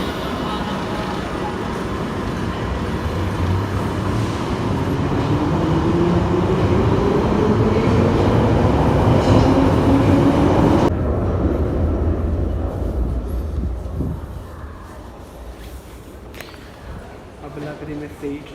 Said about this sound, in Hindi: ट्रेन आ गई है, अब इसमें चलते हैं।